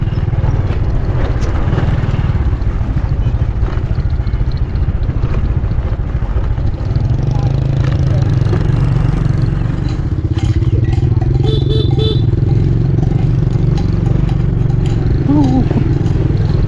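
Motorcycle ridden through a rural village, a loud, steady engine drone with rattling and scraping over rough ground, close and continuous, with occasional voices mixed in.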